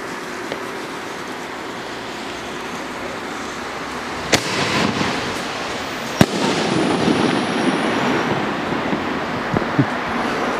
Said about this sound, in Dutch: We gaan dus wat cilindershells afvuren.